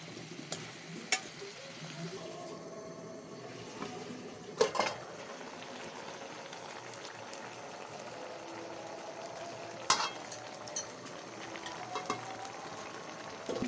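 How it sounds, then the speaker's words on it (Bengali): Cauliflower, flat beans and potatoes stir-fried in spice paste for a winter-vegetable rui fish curry: a steady soft sizzle runs throughout, with occasional sharper scrapes and clinks of a spatula against the pan. "এগুলো আমি ভালো করে কষাই নেব।"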